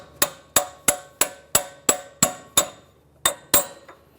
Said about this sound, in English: tap this out of here, use a punch and a hammer on the backside